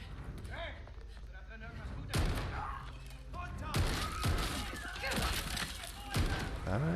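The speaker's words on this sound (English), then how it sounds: "It's like a Magnum shotgun" Heavy shotgun blasts from a video game trailer boom out in a loud, irregular series of several sharp shots, mixed with music and effects, while people react with talk over them.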